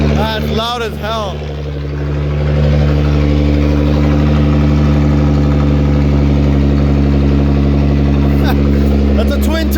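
Twin-turbo Nissan 370Z with a Tomei exhaust, a loud, steady, droning idle that holds for the whole stretch, with brief chirps and voices over it at the start and end.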